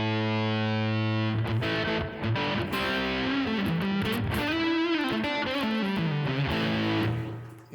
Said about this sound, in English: And then you got the fuzz.